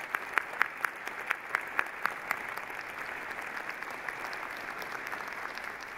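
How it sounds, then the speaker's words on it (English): Applause from a graduation convocation audience for a Faculty of Science ceremony, a steady crowd wash with a few sharper nearby claps standing out early, moderately distant and without talk. "I really want all of us to recognize Dr. Buzzard with a round of applause and thank her for being with us today"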